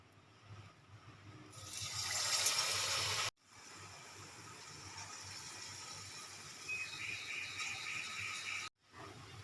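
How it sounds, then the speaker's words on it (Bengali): Bengali palm fritters (taler bora) going into hot oil in a home kitchen, a sharp burst of sizzling hiss that settles into a softer, steady frying crackle, heard close by. "তেলটা গরম হয়ে গেছে এবার আমি একে একে বড়াগুলো দিয়ে দেবো"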